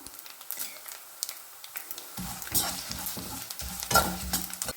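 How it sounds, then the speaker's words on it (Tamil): Cumin seeds frying in hot oil over a medium flame while making an Andhra-style curry leaf pickle, a soft crackle and sizzle with stirring scrapes, quiet at first and then busier with spitting pops close by. "நம்ம அந்த ஜீரகத்தையும் அதில் சேர்த்து பொரிய விட்டுடலாம்"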